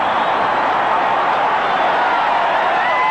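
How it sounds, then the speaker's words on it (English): Crowd at a 1980 Eagles vs Cowboys football game in a stadium, a loud, continuous roar of cheering that holds steady throughout with no break. "Listen to the crowd."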